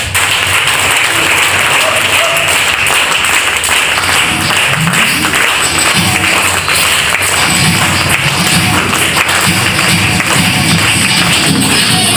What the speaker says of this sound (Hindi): इनके लिए एक ताली होनी चाहिए